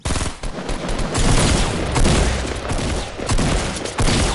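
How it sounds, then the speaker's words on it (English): Rapid, sustained gunfire from a Fortnite squads match, loud and dense with overlapping bursts of automatic shots running nearly the whole time with only brief gaps. "Oh, someone's shooting."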